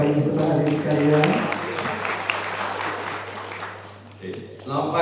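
Seminar audience applauding through a hall sound system, a steady wash of clapping that swells early, eases off and picks up again near the end, with a low hum underneath.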